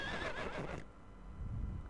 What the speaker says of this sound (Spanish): Este es el sonido de un caballo.